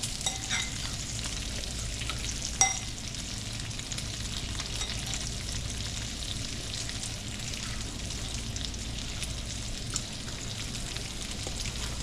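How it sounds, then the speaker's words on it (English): Grated cheese is stirred into carbonara pasta in a hot pan, giving a steady, close sizzling hiss with soft stirring and occasional small clinks, with no talking. "You just got to stir this cheese and mix it in until you get a nice paste"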